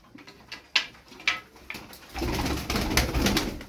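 Soft coos and wing flutters from twelve colourful play pigeons nearby, followed by a busier stretch of cooing and shuffling from several birds.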